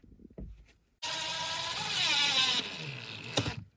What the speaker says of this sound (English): I'm allowing him to operate the drill